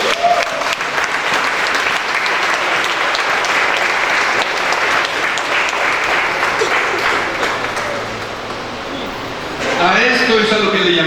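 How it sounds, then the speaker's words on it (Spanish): A church congregation applauds God during a service, with loud sustained clapping that fades near the end as a voice begins to speak. "Le damos un aplauso a nuestro Dios."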